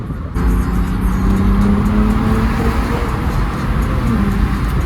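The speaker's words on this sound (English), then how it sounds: "All these pulls that I'm doing, they're not full throttle pull." Ten-year-old BMW with FBO modifications pulling hard at partial throttle on city streets, a loud deep engine roar building steadily from inside the car after a brief quieter start.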